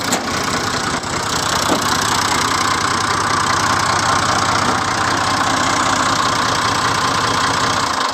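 A 1973 Ford 3000 tractor engine idles steadily and loud up close, a continuous throbbing rumble with a slight knocking edge that holds for the full eight seconds.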